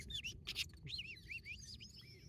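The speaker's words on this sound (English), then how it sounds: "Prairie warbler singing away to the north. Catbird putting on a show to the east." Prairie warbler and catbird sing together at sunrise, a run of bright, rising buzzy notes mixed with varied squeaky phrases, fairly close and continuous over a low outdoor rumble.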